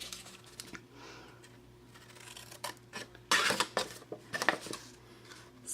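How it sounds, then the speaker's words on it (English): Scissors cutting paper up along score lines for a card-making project, a few faint snips at first, then louder crisp cutting bursts near the end, close by, with no talking. "we're going to take our scissors, and on all the score lines up to that 1 inch line, we're just going to cut"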